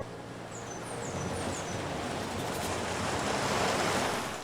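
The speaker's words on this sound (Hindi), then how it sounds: "मैं इतने सुंदर से सी शोर पर आ गया था।" Waves wash steadily onto a seashore in a broad, rolling roar that swells slightly toward the end, with a few faint high bird chirps above it and no voices.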